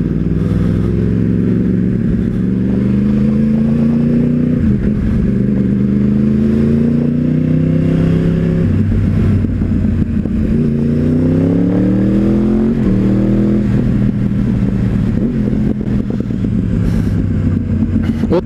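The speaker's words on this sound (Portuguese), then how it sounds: "uma moto 1000 no dia a dia" A 1000cc motorcycle ridden on everyday streets revs hard and climbs through several gear shifts. The engine note rises, drops at each change, then rises again, loud and close throughout with no talking.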